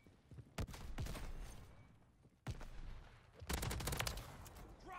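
Gunfire in Call of Duty Modern Warfare 3 from an AMR9 setup: sharp shots in separate bursts, a couple of isolated cracks early, then a dense rapid volley near the end, fairly close and loud.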